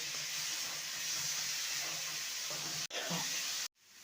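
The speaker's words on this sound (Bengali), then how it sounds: "এবারে ভেজে রাখা ওলের টুকরোগুলো দিয়ে দেব মশলার সাথে ভালো করে কষিয়ে নেব" Fried elephant foot yam pieces sautéing with spices for a yam and fish curry give a loud, steady broadband hiss and sizzle. A brief dropout breaks the sound near the end, just before it cuts off.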